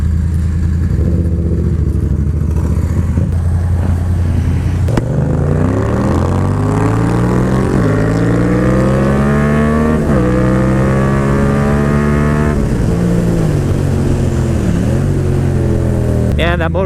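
Yamaha FZ07 motorcycle engine on a test ride, a loud near drone that rises in pitch through repeated gear-change sweeps as it accelerates, with wind noise over it.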